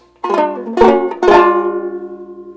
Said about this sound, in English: Take for example my grandfather's 1920s era banjo ukulele.